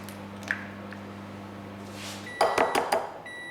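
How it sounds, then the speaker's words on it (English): Faint appliance hum, then a short series of quiet electronic beeps as a microwave finishes. "Now the microwave is finished,"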